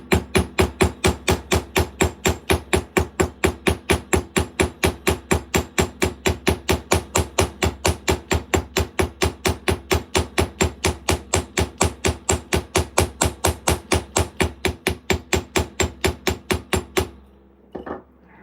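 Metal being hammered flat for beading, a long run of fast, evenly spaced sharp close hammer strikes that stops abruptly near the end, followed by a couple of faint knocks.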